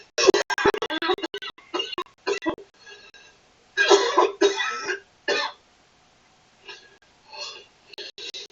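A man coughs in several harsh bursts, some in quick clusters, with quiet gaps between, close and loud.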